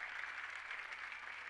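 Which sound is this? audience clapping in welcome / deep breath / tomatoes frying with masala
audience clapping in welcome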